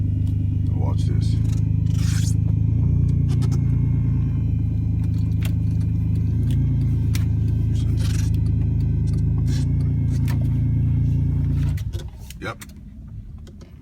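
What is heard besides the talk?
car engine whining then stalling and shutting off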